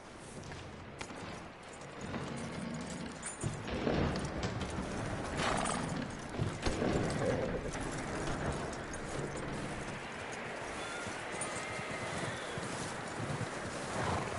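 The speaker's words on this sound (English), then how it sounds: "That looks like a decent horse." A horse clip-clops on the ground in Red Dead Redemption 2, with irregular hoofbeats, a whinny and creaking tack at moderate distance over ambient game sound.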